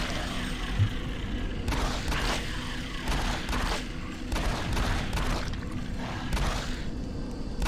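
Pistol gunfire in the video game Doom 3, a run of repeated shots at an uneven pace over a dense, rumbling game soundscape, moderately loud throughout.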